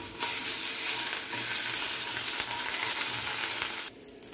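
Garlic paste hitting hot oil, a loud, dense, close sizzle with faint stirring beneath that holds steady and then cuts off abruptly just before the end.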